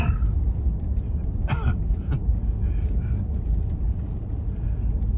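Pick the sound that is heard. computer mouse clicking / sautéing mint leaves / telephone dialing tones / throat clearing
throat clearing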